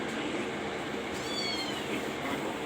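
A cat meowing once, a short rising-falling cry in the middle, over a steady background hum and noise.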